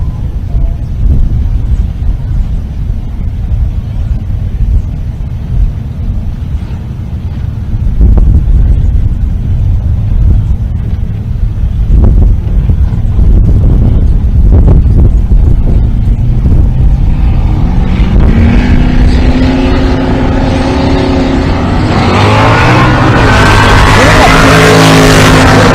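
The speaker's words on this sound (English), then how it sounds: "Dino Cardella driving the 77 Ventura called Hot Carl" Dino Cardella's 77 Ventura drag race car, "Hot Carl," at a Pueblo, Colorado race day: a loud, steady engine rumble under wind noise and possible talk builds into a sharp, rising roar near the end.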